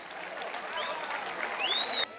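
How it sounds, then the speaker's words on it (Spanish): Crowd applause at a rodeo event, a fairly faint, steady wash of clapping from the stands lasting about two seconds, with a whistle-like rising tone near the end. "¡Vengan los aplausos!"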